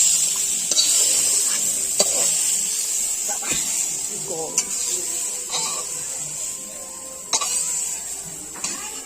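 Fried pumpkin and bitter gourd being stirred in a pan: a soft sizzle with intermittent spatula scrapes and clicks on the metal, heard close up alongside a voice talking.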